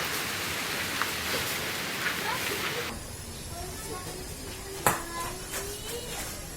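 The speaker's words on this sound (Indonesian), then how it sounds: "Untung aja hujan." Steady rain falling outdoors, a dense hiss of drops with a change in texture partway through and one sharper knock near the end, with people talking.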